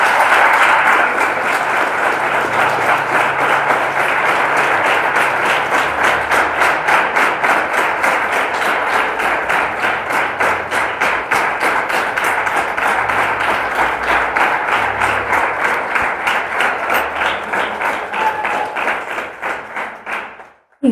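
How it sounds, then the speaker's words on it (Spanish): A church congregation claps steadily and loudly for about twenty seconds, a dense continuous wash of many hands with a rhythmic pulse, fading out at the end with no talk over it. "Dele un aplauso al Señor en esta tarde."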